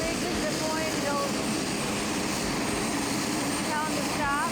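A small airplane taxis at Montgomery County Airpark with a loud, steady engine drone filling the whole stretch, and faint whistling tones drift over it.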